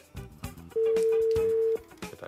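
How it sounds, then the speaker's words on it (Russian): During a live studio broadcast call, a single long telephone ringback tone sounds steadily for about a second, clear and alone between short bursts of background speech. "Это один гудок и второй гудок."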